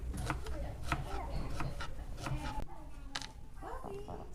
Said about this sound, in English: The onions cutting up and chunking up in small pieces here.